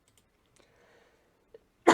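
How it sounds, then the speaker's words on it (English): A single sharp cough bursts out loudly at the end after near silence, preceded by faint breathy stirrings. "I will cut all my coughs out because my coughs, they are horrible to listen to"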